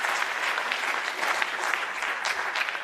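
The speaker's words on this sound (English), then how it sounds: "let's give them a round of applause" An audience at a BRICS youth trade convention applauds with dense, steady clapping, close and sustained throughout without any talk.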